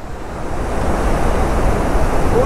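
Rushing floodwater on the mountain road between Kishtwar and Killar that washed a bridge away, a loud, dense, continuous roar close by with no voices.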